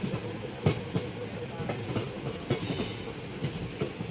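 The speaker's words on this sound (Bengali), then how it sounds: "গুন্তকালের লাইন থেকে তো একটা ডিএমইউ ট্রেন চলে আসছে" A CNG-powered DMU train on the Guntakal line near Renigunta junction rolls past with a steady rumble and rhythmic clickety-clack of wheels over rail joints, fairly close, with some faint talk mixed in.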